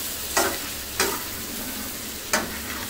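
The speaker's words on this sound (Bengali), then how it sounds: "এই যে ভালো মতন কিছুক্ষণ পরপর নেড়ে দিবেন, যাতে নিচে লেগে না যায়।" Liver bhuna frying in a pan is stirred three times with a spatula, each scrape a short sharp burst over a steady, quiet sizzle.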